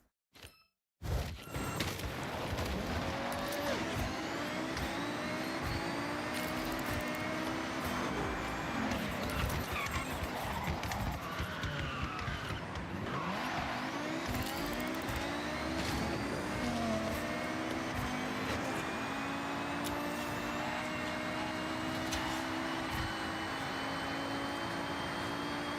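A 30-year-old BMW car driving flat out at about 200 mph, giving a loud, sustained roar of engine and rushing wind that holds steady for the whole stretch after a brief quiet start.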